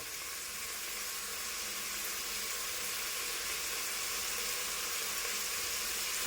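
Steady, even sizzle of food frying in a pan or pressure cooker in a home kitchen, a continuous bright hiss with no talking.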